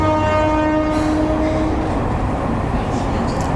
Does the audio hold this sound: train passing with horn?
yes